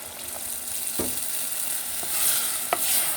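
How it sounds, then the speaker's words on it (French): Half a glass of water poured into a Tunisian tajine sauce, a bright continuous sizzle rising as the liquid hits the hot pan, with a few stirring knocks, close and fairly loud without speech. "j'ajoute un demi-verre d'eau"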